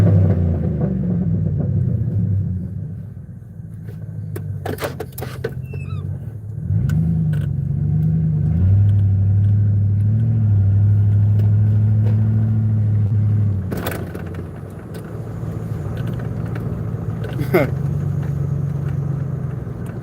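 A freshly tuned car engine idles and rumbles nearby, swelling into a louder, sustained rev in the middle before settling back, with someone talking over parts of it.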